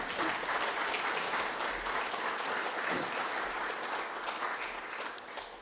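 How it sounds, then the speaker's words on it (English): An audience at a centenary commemoration and official launch breaks into a sustained round of applause, steady dense clapping at moderate distance that continues throughout without speech. "So please give them a round of applause."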